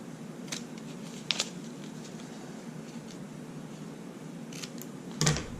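Scissors snip tape to make the tabs of a Merlin tail protector: a few quiet, isolated cuts spaced seconds apart over a faint steady room hiss, with no talk.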